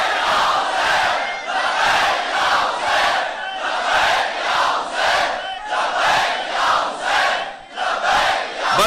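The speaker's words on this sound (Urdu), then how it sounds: "اب لگائیے لبیک یا حسین." A large crowd at a majlis chants Labbaik Ya Hussain in loud, rhythmic unison, the shouts pulsing steadily about once per second throughout.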